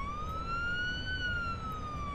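A wailing police car siren in a flight simulator video game, one long rising and falling tone held steadily at moderate volume over a low rumble, with no talk.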